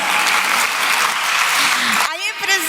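Dense clapping from an audience at a Brazilian government event launching an elderly-protection campaign rolls on for about two seconds, then cuts out as a voice begins speaking.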